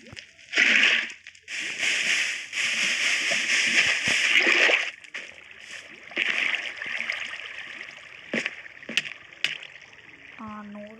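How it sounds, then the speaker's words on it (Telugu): Splashing and sloshing water bucket bursts in a Minecraft-style survival game, several loud whooshes with short gaps, followed by a few sharp clicks and a brief tonal blip at the end. "వాటర్ బకెట్ వేస్తున్నాం ఫస్ట్."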